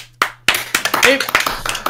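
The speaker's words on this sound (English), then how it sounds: "get a round of applause for Max." A short burst of clapping from a few people, uneven and close, with a voice briefly over it.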